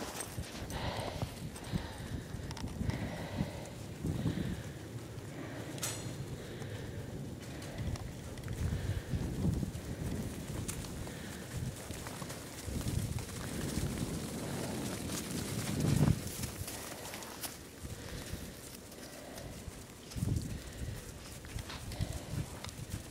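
A horse walks outdoors on a farm after a snowstorm, hooves clopping faintly and irregularly under wind noise and a steady background rumble.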